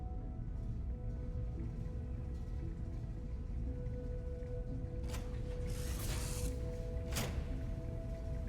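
In a video game, a wrench tightens parts with repeated mechanical ratcheting and clanking over a steady low machine hum, with a couple of sharper metallic clicks near the end.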